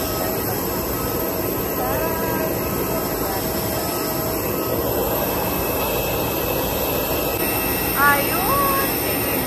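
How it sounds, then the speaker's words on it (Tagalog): An airplane descends at Bohol Panglao International Airport, giving a steady, distant engine roar that runs unbroken throughout, with faint voices in the background. "Pababa niya aeroplano."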